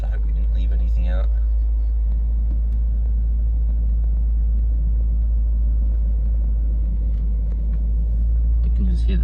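A car engine runs with a deep, steady rumble throughout after being started following repairs, loud and close, with people talking briefly over it near the start and end.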